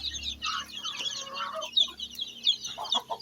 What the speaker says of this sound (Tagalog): Ito yung mga bago kong sisiw. Yung bagong pisa.